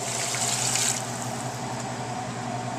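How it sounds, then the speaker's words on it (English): About 16 ounces of water is poured into a pot of Japanese curry, a steady close splashing stream with a faint hum under it, louder during the first second and then settling. "I'm going to take another 16 ounces of water."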